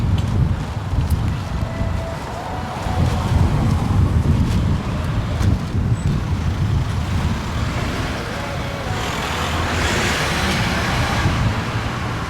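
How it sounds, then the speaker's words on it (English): Cars drive up and down a hill on a UK street, a continuous wash of traffic rumble and passing engines close by, with wind buffeting the microphone throughout. "Lots and lots of people driving up down the hill"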